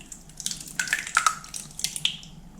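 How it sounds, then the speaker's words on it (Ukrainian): Sour milk is poured over crumbled cheese in a bowl, giving a short run of close, light splashing and dripping sounds that come in small uneven bursts. "подрібнюю сир, заливаю кислим молоком"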